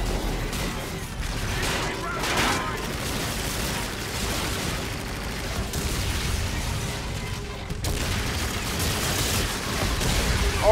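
Battle sounds from the Call of Duty: Infinite Warfare campaign mission Operation Dark Quarry: a grenade blast and gunfire rumble as a loud, continuous wash of noise that swells with a sharper burst late on.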